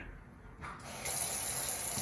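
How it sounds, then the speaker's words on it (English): Delta Touch2O touch faucet switched on, a quiet mechanical click giving way to a steady, brightening rush of tap water into a sink. "Brighton, go ahead and turn it on."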